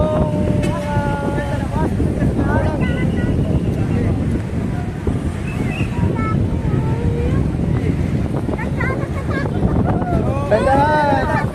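Strong wind buffets the microphone in a loud, steady rumble at an outdoor street rally near the State of the Nation Address, with a crowd's voices and chatter layered throughout.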